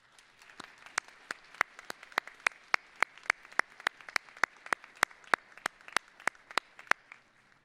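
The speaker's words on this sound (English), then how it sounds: "please give parents, families, and friends gathered here today a round of applause" Sparse, evenly spaced claps ring out in a large hall at a winter university commencement, individual hands slapping in a slow, steady rhythm rather than a full ovation, moderately loud with a faint room wash between them.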